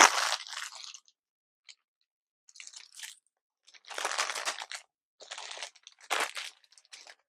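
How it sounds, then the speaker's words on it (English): Crinkly plastic rustling and crumpling in several short bursts separated by brief silences, close up, as an item is pushed into an 8x11 plastic poly mailer. "Putting this in an 8x11 poly mailer."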